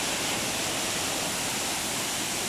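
Lúčky waterfall in the Chočské vrchy hills of Slovakia, a loud, constant broadband roar of falling water heard close up, with no talk over it.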